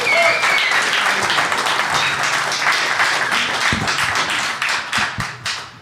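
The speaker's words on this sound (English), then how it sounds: "Give yourselves a round of applause" Ringside audience at a professional 8-ball pool invitational gives a loud round of applause, dense clapping sustained for about five seconds before thinning into a few scattered final claps.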